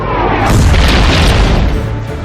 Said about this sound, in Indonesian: HRMS Everston mulai menembakkan meriam 120 mm secara terarah ke arah RI Macan Tutul.